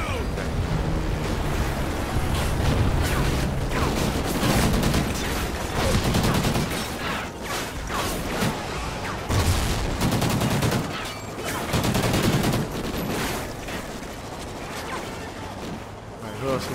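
Gunfire in Call of Duty: Ghosts, repeated bursts of automatic fire and sharp shots in loud clusters over a rushing, surf-like background, with a voice speaking between volleys.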